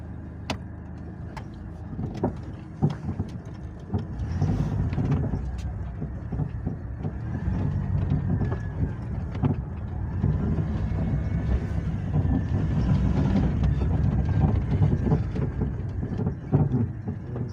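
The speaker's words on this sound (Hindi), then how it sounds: "गाड़ी में अगली साइड से काफ़ी ज़्यादा आवाज़ आ रही है" Engine rumble inside a moving Toyota Hiace TRH200 Grand Cabin van, with repeated knocks and clunks from the noisy front suspension over bumps, steady and close.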